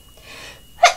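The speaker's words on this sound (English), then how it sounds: "I'm still sneezing." A single sharp sneeze bursts out near the end after a soft intake of breath, close and loud, from a person indoors at night.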